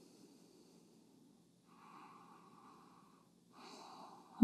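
Someone breathes slowly during a yoga hip stretch, soft airy exhales and inhales, faint and close, ending with a brief louder breath or snort.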